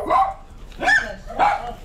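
A dog barks three times at close range in sharp, evenly spaced bursts during a grocery delivery at a doorstep, loud and alone with no talk over it.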